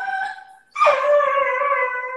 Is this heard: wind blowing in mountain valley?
no